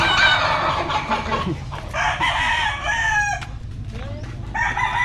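Frightened Silkie chickens cluck and squawk close by, with a rooster's crow rising among the busy, agitated flock noise.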